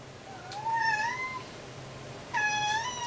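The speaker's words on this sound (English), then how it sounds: "Thus the meowing." A house cat meows twice, each a clear rising-falling call with a pause between, fairly close and loud over a quiet indoor background.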